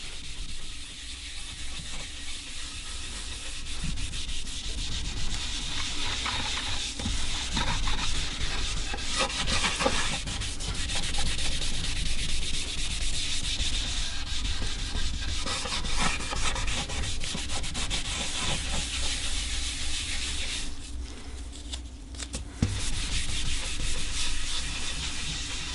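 Purple stain is rubbed by hand into a quilted maple guitar body, a continuous close scrubbing and rubbing rasp that runs steadily for about twenty-five seconds with only a brief lull near the end, no voices.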